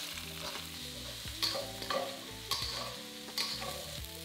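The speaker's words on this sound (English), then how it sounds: "we're going to add in an onion that's been chopped into wedges and a red pepper that's been chopped into nice chunky pieces, and fry that for another couple of minutes" Chicken with onion wedges and chunky red pepper pieces frying in a pan, a soft steady sizzle under background music, with several sharp utensil scrapes and clinks marking the stirring.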